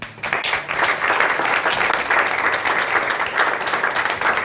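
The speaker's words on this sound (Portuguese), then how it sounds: "Um aplauso para ela." A crowd applauds steadily for several seconds, a dense, sustained wash of clapping with no pauses.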